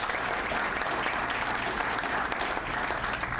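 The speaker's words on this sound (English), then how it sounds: "a round of applause for David and Janine" A crowd applauds steadily for David and Janine at the public opening of the Suffolk County Sheriff's Department OASIS Unit, a dense, even clapping that holds at one level throughout.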